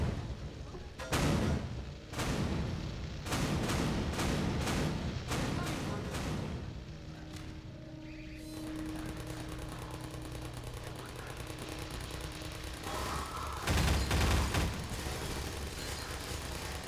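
Automated turret gunfire in the video game Half-Life 2 rattles in several heavy, close bursts, followed by a sustained mechanical drone and another loud burst near the end; a voice speaks briefly among the noise.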